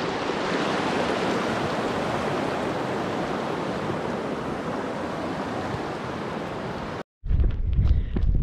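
Steady, close rushing water from a creek beside a remote trail in British Columbia, Canada, fills the air with continuous hiss before cutting off abruptly near the end.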